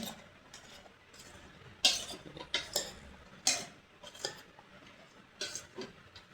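Pointed gourd frying in a pan is stirred with a utensil, giving quiet, scattered scrapes and clinks against the metal over a faint sizzle.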